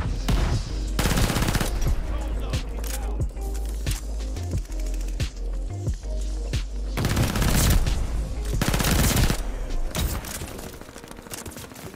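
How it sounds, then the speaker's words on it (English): Submachine gun fire in a video game, loud rapid bursts of automatic shots that rattle almost continuously, with short pauses between volleys and a heavier stretch near the end. "A new submachine gun."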